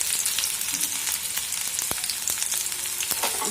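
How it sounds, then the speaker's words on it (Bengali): Chopped onion and green chili hit hot oil and fry with a loud, crackling sizzle, sharp pops and spits breaking through the steady hiss, close and with no talking. "তেলটা গরম হয়ে গিয়েছে, এবার কুচানো পেঁয়াজ দিয়ে দেব।"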